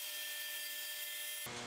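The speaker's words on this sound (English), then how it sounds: "The 1x3 pieces were ripped to 2 1/4 inches on the table saw." A table saw rips 1x3 wood boards with a steady, loud whirring cut that holds evenly for over a second before shifting abruptly as the blade clears the board.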